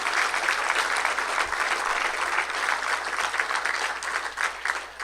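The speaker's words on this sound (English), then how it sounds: "Let's give a round of applause for Ron." Guests at an awards dinner give a steady round of applause, moderately loud and continuous for several seconds before starting to thin toward the end.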